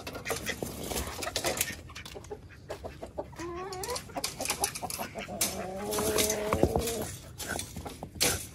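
Free-ranging Aseel chickens in a backyard coop cluck and squawk in short, uneven bursts nearby, with some calls rising into drawn-out notes over a light background bustle.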